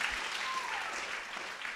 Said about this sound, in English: Round of applause for her, guys.